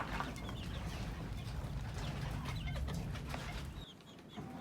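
Bantam chickens on a farm cluck softly under a steady low background hum, scattered short calls throughout, before the hum drops away near the end.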